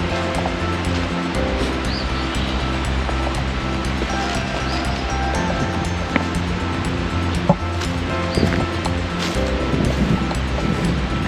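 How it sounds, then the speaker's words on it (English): Continuous rushing water fills a creek nature preserve at a steady, fairly loud level, with occasional faint clicks and knocks above the flow. "I can just hear water flowing all around me right now."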